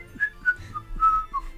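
A person whistles a short run of about five clear notes, near and fairly soft, over quiet background.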